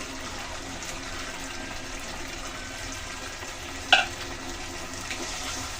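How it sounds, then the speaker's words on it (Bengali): Eggs fry in a spiced potato masala, giving a steady, soft sizzle throughout, with one brief clink near the middle, close by and with no talk. "ডিম দিয়ে হালকা কষিয়ে তারপর জল দিয়ে দেবো"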